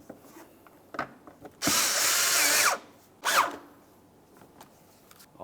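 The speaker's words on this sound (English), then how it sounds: "Let's put in our wheel well screws" A power tool drives wheel well screws on a 2011-2018 Volkswagen Jetta, with one sustained whir of about a second followed by a shorter burst, set between small clicks and handling noises.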